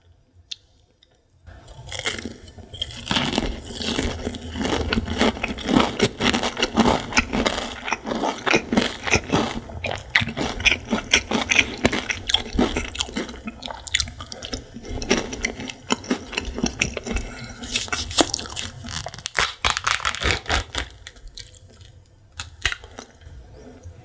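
Close, crisp crunching and chewing of boneless garlic bread fried chicken, a dense run of bites and mouth sounds for most of the stretch, quiet at the start and tapering near the end, with no talking.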